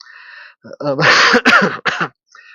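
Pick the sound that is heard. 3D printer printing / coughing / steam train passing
coughing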